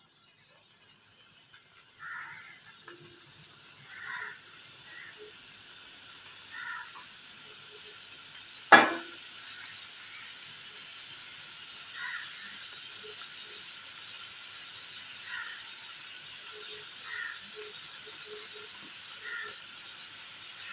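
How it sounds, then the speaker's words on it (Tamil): Somas pastries deep-fry in hot oil over medium heat, giving a steady, even sizzling hiss throughout with faint scattered crackles and one sharp pop partway through. "போட்டு எடுத்துகிட்டு அப்புறம் எண்ணெயில் பொரிக்கலாம்"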